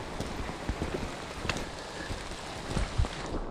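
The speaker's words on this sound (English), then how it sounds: "you can tell it's still raining." Steady rain hisses across the whole stretch, with scattered drops ticking and pattering on nearby surfaces at a moderate, even level.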